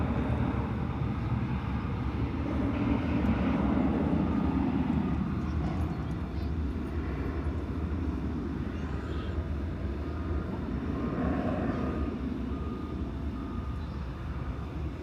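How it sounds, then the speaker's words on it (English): Distant, low jet engine rumble from an American Airlines Boeing 737-800 taxiing past terminals at DFW Airport at night, steady and faint throughout. "It'll be flight 2160 American Airlines off to Albuquerque in New Mexico, a 737-800."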